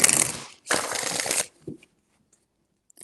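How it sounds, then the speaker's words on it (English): Tarot cards are shuffled in two quick riffling bursts, close and crisp, followed by a soft tap and then near silence. "Four shuffles."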